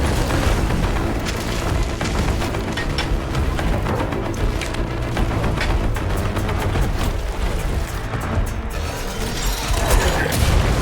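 A Fireclaw machine attacks in an arena in Horizon Call of the Mountain: a dense, loud, continuous wall of deep booming rumble with clanking mechanical crashes and bursts, with no quiet gaps.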